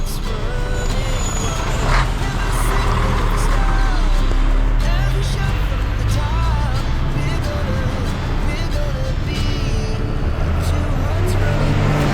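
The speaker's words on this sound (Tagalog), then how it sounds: "traffic" Road traffic on a rainy day in Bicol, with trucks and cars rumbling past, a brief hiss like an air brake and faint beeping, a continuous loud low roar of engines and wet road noise.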